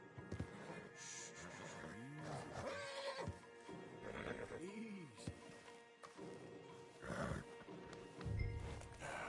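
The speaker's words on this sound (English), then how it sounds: "Javier, you're gonna lead the stallions." Several horse whinnies from stallions in Red Dead Redemption 2, with rising and falling pitch, ring out over a busy background of rumble and scattered clatter, loud and fairly close.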